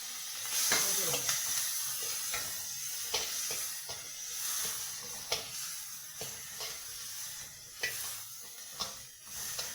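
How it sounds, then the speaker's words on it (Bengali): Prawn heads frying in a pan with a steady sizzle and hiss, broken by repeated scraping and stirring strokes at an uneven rhythm, fairly close. "এখন মাছের মাথাগুলো ভেজে নেব।"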